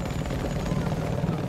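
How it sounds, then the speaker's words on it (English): A helicopter in the PC game Battlefield 4 roars with a steady, loud, close rotor thrum throughout, with a voice faintly underneath. "Helicopter!"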